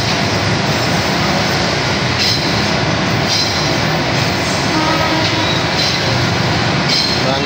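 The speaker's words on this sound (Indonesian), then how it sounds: "KRL masuk Stasiun Manggarai." A KRL commuter train rolls loudly through Manggarai Station, with a steady roar of wheels on rail, rhythmic rattling and faint high squeals carrying on throughout, close by and with no talk.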